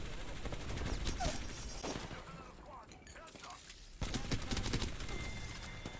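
Rapid gunfire crackles in a battle royale shooter, with bursts of sharp shots, a quieter lull, then another dense volley near the end.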